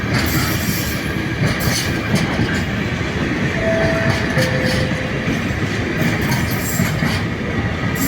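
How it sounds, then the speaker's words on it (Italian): A train rolls into Padova railway station, a loud, steady rumble of wheels and rail clatter close by, with a brief squeal or tone rising above the noise midway. "Treno in arrivo al binario 7."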